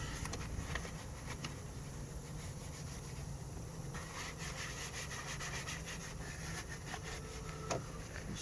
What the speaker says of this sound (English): So I'll scrub them with a brush